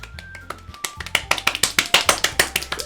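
Applause in the video game Doki Doki Literature Club as a poem reading ends: a loud run of sharp, evenly spaced claps that builds from scattered taps into a steady, quick rhythm, with no voices over it.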